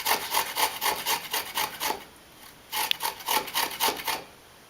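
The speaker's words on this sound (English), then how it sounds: "A handy little piece of ginger and our handy little grater." Fresh ginger root rubbed back and forth on a handheld kitchen grater, giving repeated scraping strokes in a steady rhythm, close and clear, with a short pause midway before the strokes resume.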